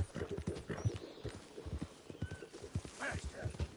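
A horse in Red Dead Redemption 2 clops along in an uneven run of hoofbeats and neighs a few times, with some background noise.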